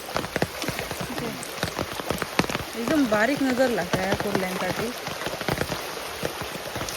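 Steady rain patters on a stream during a crab-hunting outing, a soft constant hiss with scattered drips, as someone talks over it in the middle.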